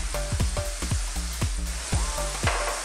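Fries bubbling in hot oil beside a steak dinner, a loud steady sizzle with repeated crackling pops and stirring clinks close by, without talk.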